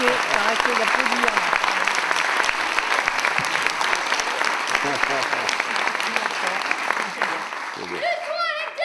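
Sustained, loud applause from a theatre audience at a school drama workshop fills the room, dense and steady, then thins near the end as voices and cheering rise through it.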